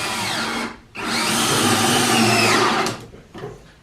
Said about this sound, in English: So let me go ahead and get this thing screwed in here.